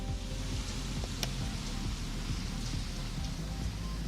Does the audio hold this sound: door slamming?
no